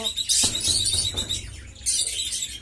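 Desi pigeons in a loft make bursts of high, squeaky chirping calls, close and fairly loud, broken by short gaps and a few soft knocks.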